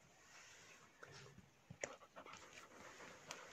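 A small puppy found by a river pants softly and lets out a few thin whimpers, faint and close, in a quiet room.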